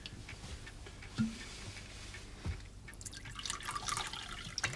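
A small splash of whisky trickles into a glass, a faint, quiet pour with light dripping in a hushed indoor room.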